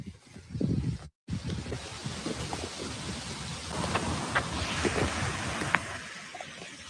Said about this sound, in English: No, I think I hear the falls.